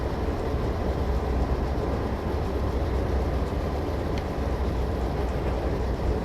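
A train picks up speed on straight track, giving a steady, moderately loud rolling rumble with low drone and faint rattling that stays even for the whole stretch.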